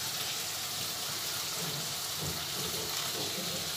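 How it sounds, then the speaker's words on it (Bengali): Water pours onto tamarind in a bowl as a steady, close splashing wash that lasts throughout, with no talking. "তেঁতুলটা দিয়ে দিলাম, তার সঙ্গে জল দিলাম"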